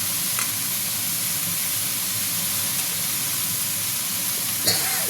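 Cut Malabar spinach stalks frying in a pan for a mixed vegetarian dish, a steady close sizzle with faint stirring and a small clatter near the end, no talk.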